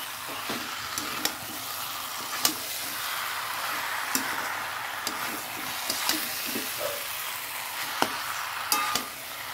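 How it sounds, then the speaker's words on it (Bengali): Potato and papaya sautéing in a pan: a steady soft sizzle with scattered sharp ticks and scrapes of a utensil stirring, close and continuous, no talking. "আস্তে আস্তে কষাতে থাকি।"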